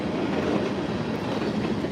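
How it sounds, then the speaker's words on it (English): A train rolls past at night in Las Vegas, a steady broadband rumble and rattle of rail cars holding constant throughout with no voices. "you rarely see nighttime trains"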